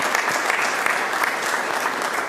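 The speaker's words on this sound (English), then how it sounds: "Let's give Andre a round of applause" Audience applause at a transit board of directors meeting, a steady wash of many hands clapping at close range with no speech over it.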